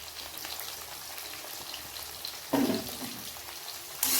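Garlic, fenugreek seeds and shallots fry gently in a pan for a Tamil vatha kulambu, a soft steady sizzle throughout with a brief louder burst of stirring partway through and another near the end.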